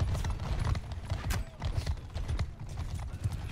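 Horse hooves in the medieval battle game Mount & Blade II: Bannerlord, a rapid, continuous clip-clop of galloping mounts during a castle siege, loud and close, mixed with battle clatter and no talking.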